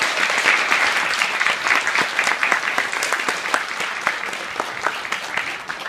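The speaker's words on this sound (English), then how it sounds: "Will the Blank family who's here please rise so that we can give you an applause?" Audience applause fills a lecture or ceremony hall, many hands clapping in a steady, crisp patter at close range that slowly tapers in loudness toward the end.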